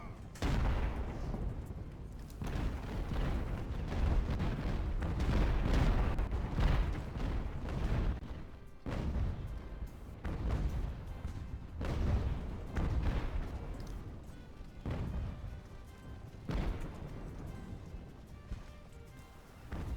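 Mortar artillery booms repeatedly in Ultimate Admiral: Age of Sail, with heavy thuds and rolling fusillades layered under a steady battlefield din. A voice talks over the gunfire.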